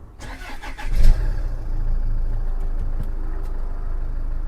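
A Range Rover Evoque engine cranks and fires after a timing belt and water pump job, catching with a brief rev before settling into a steady idle, loud and close with no talk.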